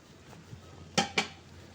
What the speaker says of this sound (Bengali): এই ময়লাগুলো আমি একটু চামচ দিয়ে তুলে নিচ্ছি